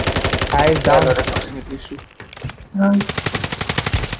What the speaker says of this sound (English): They're shooting from two sides, man.